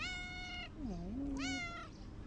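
A chatty cat gives two clear meows, one drawn out and sliding, then a second rising call, close and distinct with no voices over it.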